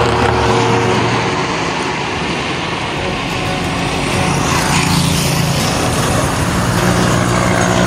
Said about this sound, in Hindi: ये जो इस तरफ से अभी ट्रैफिक आ रही है, आपको नज़र आ रही है